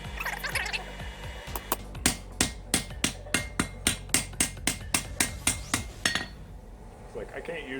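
A Japanese hammer strikes steadily and rhythmically, about fifteen sharp ringing blows in a row, close and loud, before stopping.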